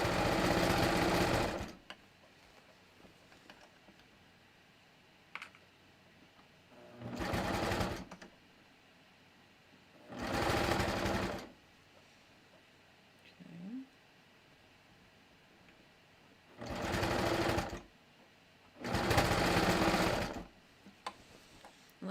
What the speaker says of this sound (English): I am just sewing from pin to pin